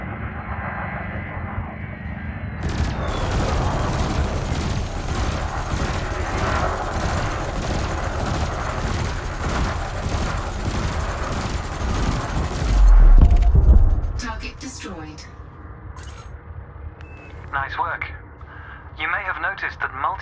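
Rapid, sustained multi-cannon fire from a spaceship in Elite Dangerous chatters over a droning spacecraft engine for about ten seconds, then stops, leaving a quieter hum with scattered electronic blips.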